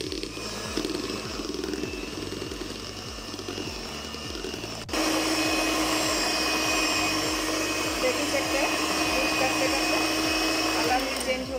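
Electric hand beater whipping a chilled homemade ice cream mixture, a steady motor whir with a rhythmic low pulsing, growing louder and harsher partway through as the beaters dig in, running continuously up close.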